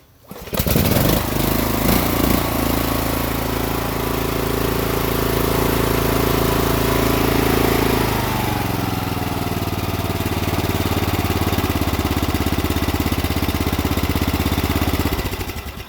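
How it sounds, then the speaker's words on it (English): A small Briggs and Stratton Intek 17.5 lawn mower engine starts and then idles loudly and steadily for the rest of the clip, with a slight drop in pitch partway through. "as long as the engine is turned on"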